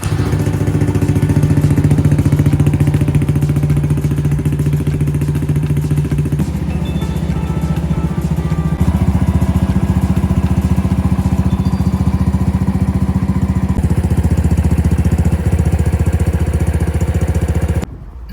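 A Honda Dax 125 motorcycle engine running steadily and loudly up close with a smooth, even drone, shifting in tone a couple of times before cutting off at the end.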